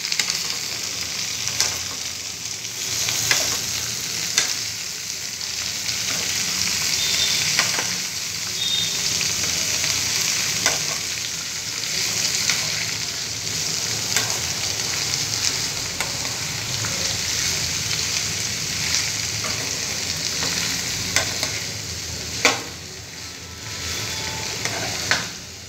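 A curry of bottle gourd pieces with ginger paste fries steadily in a pan and is stirred. The loud, continuous sizzle carries on throughout, with the spoon scraping and tapping against the pan at irregular moments, and no talk.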